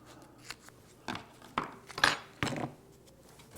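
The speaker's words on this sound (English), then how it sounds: "you can do that by using Hvac aluminum tape. You're going to just cut a small piece here." Scissors snip HVAC aluminum tape for dash-light work on a 1976–1985 Mercedes W123, giving several sharp, close metallic cuts spaced about half a second apart in a quiet room.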